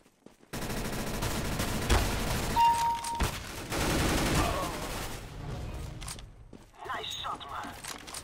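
Gunfire in Counter-Strike: Global Offensive Arms Race mode, several sharp bursts of shots with footsteps and clatter between them, fairly close, while a voice talks over the action.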